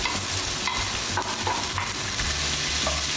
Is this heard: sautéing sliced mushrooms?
yes